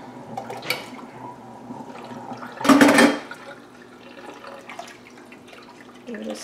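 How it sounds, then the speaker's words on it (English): Whey is dumped into a container of milk in a home kitchen, a single loud splashing gush lasting about half a second, with quiet surroundings and faint clinks before and after. "dump in the whey."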